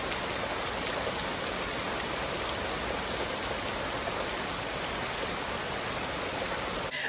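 Rain falls steadily outside, a soft constant hiss with faint pattering that stays even and unbroken from start to finish.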